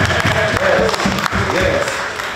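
An audience at a fundraising talk-show event gives a round of applause for Gibbs and Aristide, a short burst of crowd clapping heard under a speaker's voice.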